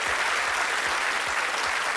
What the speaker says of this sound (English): There's a nice applause for you, Chris.